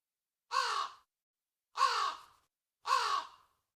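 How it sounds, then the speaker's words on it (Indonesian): Three loud, harsh crow caws ring out one after another around a house, evenly spaced with silence between them, fairly close and clear. "Sampai suatu malam, di rumah Pak Kisno, burung gagak terdengar bersahutan mengelilingi rumahnya."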